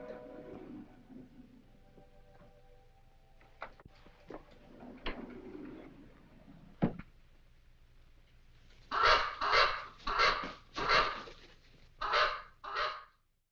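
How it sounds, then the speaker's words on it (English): A crow in a 1948 film scene gives a run of six loud, harsh caws in quick succession, preceded by quieter scattered knocks and faint film background noise. "Janet leaves, and Alexis, he's just kind of chilling out with his crow"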